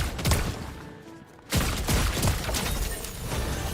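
Gunfire in Fortnite: a cluster of sharp shots and crackling impacts, then a brief lull and a renewed barrage of several rapid shots, fairly loud and close, with no talking.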